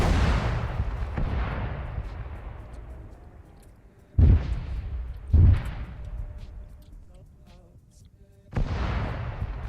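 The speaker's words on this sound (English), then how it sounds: "Let's see what happens when I give a suppressive fire order to these artillery pieces." Artillery barrage under a suppressive fire order in Arma 3's CSAT campaign on Malden: a rolling low rumble, then three sharp, heavy booms at spaced intervals, each trailing off into a long echoing decay.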